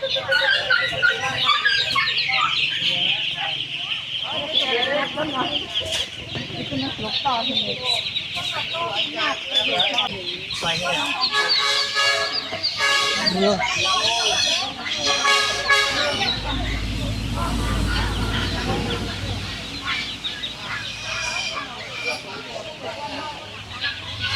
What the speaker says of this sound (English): There is an abundance of chickens and ducks here, so buyers have plenty of choices.